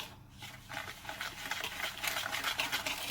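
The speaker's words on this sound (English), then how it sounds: "Now you're just going to want to mix those together so they're well blended." Whey protein powder and baking soda are stirred together in a bowl, a soft continuous scraping and swishing of the utensil, close and steady, with rhythmic strokes toward the end.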